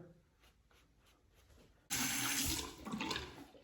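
Running tap water suddenly gushes on at full force partway through as a Merkur 24C safety razor is rinsed beneath it, a loud, steady splashing that follows a few quiet moments of faint handling sounds.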